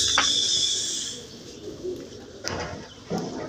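Pigeons on a rooftop give soft low cooing calls, a few brief coos spaced apart over light outdoor background noise, moderately near and fairly quiet.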